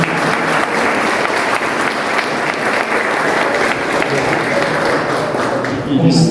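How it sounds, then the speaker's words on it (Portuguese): A gathering's audience at a talk on mediumship and self-knowledge bursts into loud, close, sustained applause for a doctor, an even wash of clapping with some voices mixed in throughout. "eu queria pedir uma salva de palmas para o Vicente"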